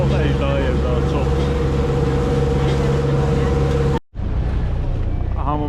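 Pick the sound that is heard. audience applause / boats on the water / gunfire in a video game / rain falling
boats on the water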